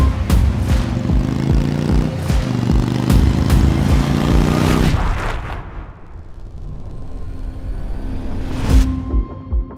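An Indian Chieftain motorcycle's PowerPlus 112 V-twin engine revs loudly and steadily under throttle, then drops off as the engine settles to a lower idle before a final short rev.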